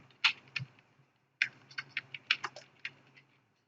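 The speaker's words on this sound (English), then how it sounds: "in the search box type edit power plan" Close, quiet typing on a computer keyboard: a few separate keystrokes, a short pause, then a quicker run of clicks.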